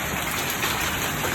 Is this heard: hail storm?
yes